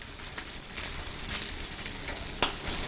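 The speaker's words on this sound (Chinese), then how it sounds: "那我能不能把那个就是鸡皮那一面多煎一会儿？" Chicken, skin side down, fries in a pan for teriyaki chicken, giving a continuous close sizzle with small crackles and pops. One sharper snap comes near the end.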